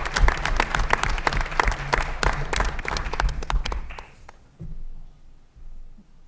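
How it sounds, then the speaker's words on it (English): At a school board meeting, the audience claps to honor a diving record holder, a burst of crisp, dense clapping lasting about four seconds, then dropping to quiet room tone. "Just give a round of applause to Ella"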